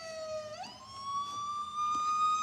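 A video game siren wails in a sustained electronic tone that sweeps upward, then holds high and loud with no other sounds competing.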